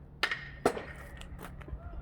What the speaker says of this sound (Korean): 야구 배트에 공 맞는 소리